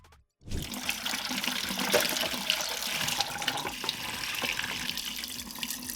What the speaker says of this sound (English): You want to rinse them off really well.